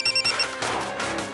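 A telephone rings in short repeated electronic bursts, loud and close, then gives way to a steady background hum with no one speaking.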